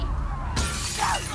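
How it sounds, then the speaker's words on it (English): A glass window shatters in The Last of Us Part II, a sudden loud crash about halfway through followed by scattering shards, after a quieter game background. "It looks like the only way in is to break the glass, most likely."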